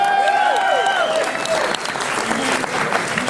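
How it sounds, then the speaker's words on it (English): An audience at a Halloween Horror Nights 2013 Q&A with director John Landis breaks into loud, sustained applause, with a voice carrying over the clapping at the start. "Go ahead and give him a big round of applause."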